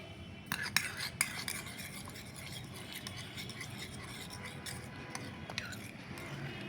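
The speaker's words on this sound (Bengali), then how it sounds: "ইস্ট দিয়ে ভালো করিয়া আর নাড়াচাড়া করিয়া ইস্টটা যাতে দুধের মাঝে মিক্সড হয়ে যায়" A spoon stirs yeast into a bowl of lukewarm milk, giving a few light scraping clinks near the start and again around the end over a faint, steady background.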